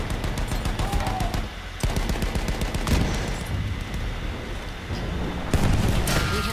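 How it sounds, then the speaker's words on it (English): Enemy machine gun fire in a Battlefield 1 battle, dense rattling bursts mixed with distant explosions and artillery, continuous and fairly loud throughout with no voices. "Enemy machine gun!"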